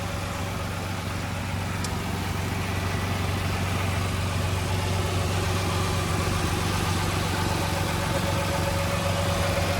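A Dodge engine idles steadily after a transmission fluid, filter and pan service, a continuous even hum with a low, constant rumble throughout.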